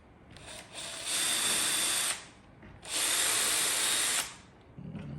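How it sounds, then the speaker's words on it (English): A power drill whirs through a pinball machine part in two loud, steady bursts of about a second each, separated by a short pause, with a brief lighter spin beforehand and a voice starting at the end. "if I see a dimple, I'm gonna drill it."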